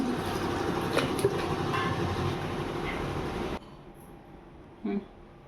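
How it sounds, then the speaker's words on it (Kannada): A kitchen mixer grinder blending melon runs with a loud, steady whirring roar for a few seconds, then cuts off abruptly into near quiet, followed by one brief knock. "ಇವಾಗ ಮಿಕ್ಸಿಗೆ ಹಾಕಿ ರುಬ್ಕೋತೀನಿ"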